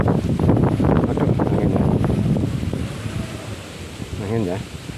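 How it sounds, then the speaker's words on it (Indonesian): Strong wind buffets an outdoor microphone during a fishing trip, a steady roaring rush that eases slightly toward the end, with a voice speaking over it. "angin ya"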